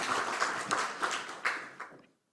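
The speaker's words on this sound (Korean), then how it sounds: "박수 한번 쳐주세요" A church congregation at a Sunday worship service breaks into a short burst of hand clapping, moderately close and fairly dense, lasting about two seconds before fading out to silence.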